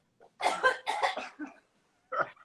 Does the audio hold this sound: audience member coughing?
yes